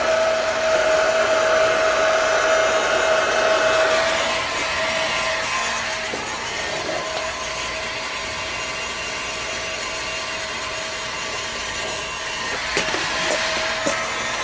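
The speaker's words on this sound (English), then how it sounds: "Just gently heat it. You can use a hair dryer also." A hair dryer blows steadily to heat and loosen decals on a Volkswagen Super Beetle body part during rust repair, a continuous whooshing drone close by that shifts slightly in tone midway, with faint clicks near the end.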